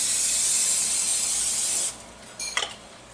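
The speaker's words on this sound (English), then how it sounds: "I'm going to take a little Pam and just kind of spritz these down just a little bit." Pam cooking spray spritzed into maple candy molds gives a close, continuous pressurized hiss for about two seconds, followed by a few faint rubbing and handling sounds.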